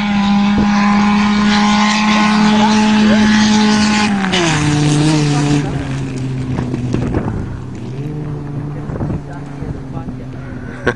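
Three cars, an Escort, a Sentra and a Jimmy, race across a farm field, one engine droning loud and steady with audible gear shifts dropping its pitch, while voices talk over the running engines.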